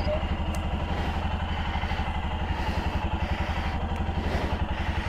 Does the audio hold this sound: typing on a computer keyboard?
no